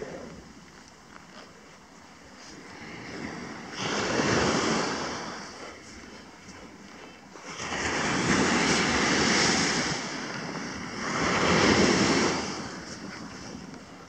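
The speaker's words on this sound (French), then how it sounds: "je vais remettre mon casque puisque j'entends rien avec les vagues" Ocean waves break and wash up on a shore beside low sea walls, in broad surging swells that rise and fall several times, with wind buffeting the microphone throughout.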